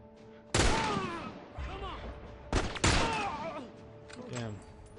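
Loud gunshots in The Last of Us, two sharp blasts with ringing echoes trailing off, then fainter shots and voices behind.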